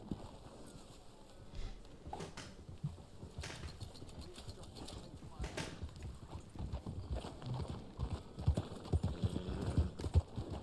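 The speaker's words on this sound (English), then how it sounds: "This is the Black Arabian Horse." A Black Arabian horse gallops in Red Dead Online, its hooves beating a quiet, rapid clip-clop rhythm that grows busier toward the end.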